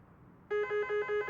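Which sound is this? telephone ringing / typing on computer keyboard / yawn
telephone ringing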